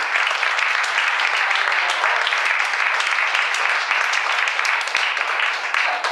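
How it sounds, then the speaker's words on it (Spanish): A church congregation claps together in a dense, even wash of applause that holds steady throughout, loud and close with no talk over it. "Dale un aplauso al Señor."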